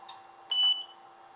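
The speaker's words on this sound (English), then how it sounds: "let's turn off this beep" A single short electronic beep from a DDCS v4.1 CNC controller, a clear steady tone lasting about a quarter second, preceded by a faint softer blip, alone in a quiet room.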